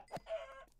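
Chicken clucking in Minecraft, a few short clucks with a sustained middle call, close and clear, alone without any talk.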